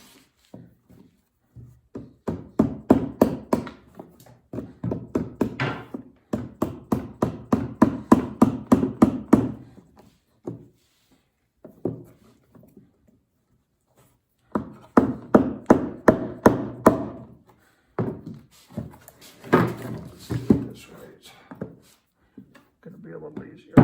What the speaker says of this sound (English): first thing I'm going to do is knock this one high edge piece off